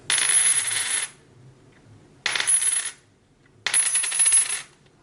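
A 90% silver Washington quarter is dropped three times on a hard surface, each a bright ringing clatter about a second long, separated by short silences.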